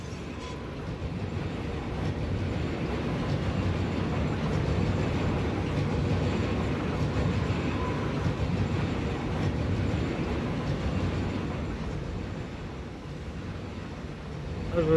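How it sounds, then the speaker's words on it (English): A train running in the video game Satisfactory, a continuous rumbling roll with a steady mid-low drone and faint rhythmic rail texture, sustained and even for the whole stretch. "There's a return train doing what it's supposed to do."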